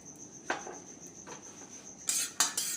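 Peanuts and cumin dry-roast in a kadhai while being stirred, a few sparse metallic scrapes and clinks, quiet and close, with a steady high insect-like whine behind them.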